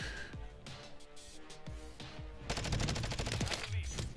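Rapid automatic fire from a Vaznev 9K submachine gun in the shooter game Modern Warfare: scattered single shots at first, then a loud, sustained burst of fast bullets near the end, with faint voices underneath.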